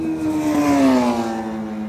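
Superbikes race past at high speed on the Buddh International Circuit during a trackday, a loud, close, screaming engine note that sweeps up then drops in pitch as the bike passes, with no talk.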